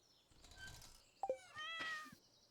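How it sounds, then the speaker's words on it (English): A cat meows twice in Stardew Valley, a short call followed by a louder, drawn-out meow over soft background game ambience, with no talking. "God, I love the cat sounds."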